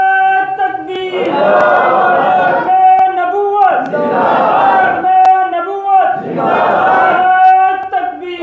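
A large crowd at a Friday sermon chants the takbir response in three loud, rolling collective shouts, each swelling and fading with brief pauses between.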